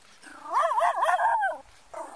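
A dog whimpers and yips in a rising, wavering cry for about a second, then whines again briefly, fairly close and moderately loud with no talking.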